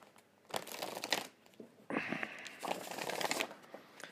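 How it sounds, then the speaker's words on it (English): Cards are shuffled close up in several quick riffling bursts, crisp flapping and rustling with short pauses between. "we'll give it one more shuffle"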